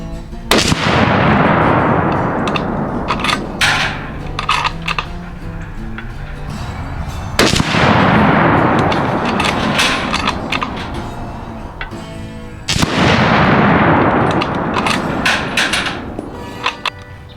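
Three sharp, loud gunshots from a Savage Axis .30-06 rifle firing 165 grain rounds at a range, spaced several seconds apart, each followed by a long decaying boom with faint clicks between shots.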